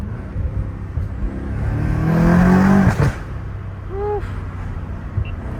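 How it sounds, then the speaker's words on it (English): A straight-piped McLaren 720S revs hard, its engine note swelling to a loud peak before a sharp gear-change cut drops it back to a lower rumble, and a person whoops partway through. "The way it switches gears is freaking amazing."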